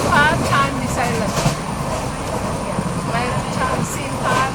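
A Konkan Railway train rolls through hilly country, heard from inside as a continuous rumbling wheel-and-carriage noise with people talking over it.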